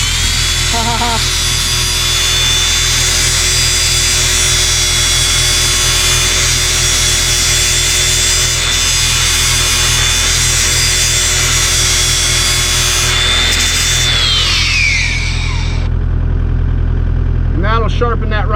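A power tool sharpens the tips of fairly new blade teeth on a wicked brush-clearing blade, a steady high-pitched whine with a pulsing motor drone that runs loud and close for about fifteen seconds, then winds down.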